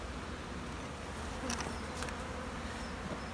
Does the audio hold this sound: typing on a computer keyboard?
no